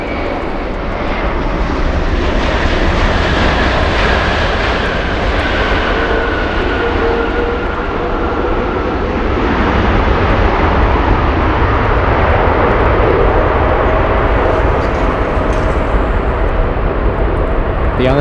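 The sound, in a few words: airplane taking off from runway 24 left at LAX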